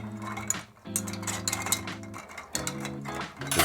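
A spoon stirs a sweetened Christmas tea blend, making light, scattered clinks against the vessel over steady background music.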